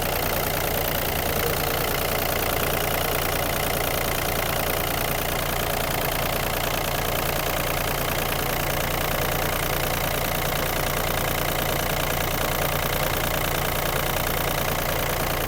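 A Yanmar AF-22 Japanese mini tractor's small diesel engine idles steadily and loudly up close, a constant low chugging rumble with no voices.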